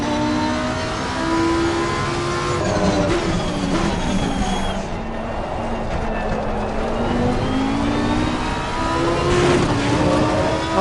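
BMW race car racing at Donington Park, its engine loud and close as it revs and shifts, pitch climbing and dropping through gear changes, with other car noise around it.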